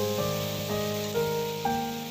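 Spices and ingredients for a Bengali-style sarpunti fish curry with potato and tomato sizzle steadily in a wok. The frying is close and even, with a few louder bursts and no talking.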